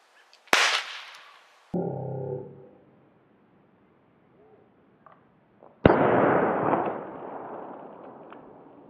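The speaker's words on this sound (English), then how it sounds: "You get a nice explosion of blood." A sharp pop from a homemade squib blood pack, followed by a hissing burst, a short low rumble, then quiet before a second louder explosive burst trailing off in a sizzling hiss.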